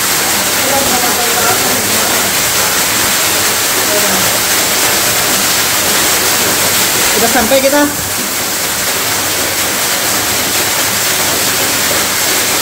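A waterfall at the end of a pool near a cave in Tasikmalaya roars as a constant, loud, broadband rush of water, with a brief voice speaking partway through over the steady noise.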